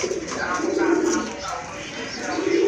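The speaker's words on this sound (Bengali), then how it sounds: "এটা হচ্ছে আপনার মাদি কবুতর" Pigeons cooing close by in a loft, among them a female pigeon, with soft repeated throaty coos overlapping and a voice talking through them.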